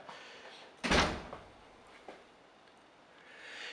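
The front door of a house in Fort Lauderdale, Florida, opens with one sharp close thunk, followed by a couple of softer knocks and a quiet, airy room tone.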